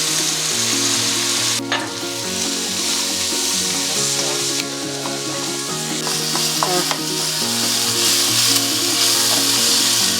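Seasoning salt and curry powder frying in a hot pan for okra and mackerel, a loud steady sizzle with a tonal hum and occasional clicks and scrapes, no voices.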